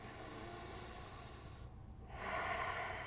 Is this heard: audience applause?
no